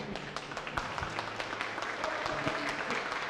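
A church congregation applauds in loud, dense, continuous clapping at a Sunday service, with a faint voice underneath.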